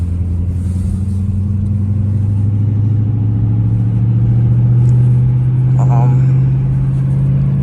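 From inside a Dodge Charger R/T with a 5.7L engine driving in track mode at night, a loud, steady engine drone hums low and swells gradually, with a voice speaking briefly over it.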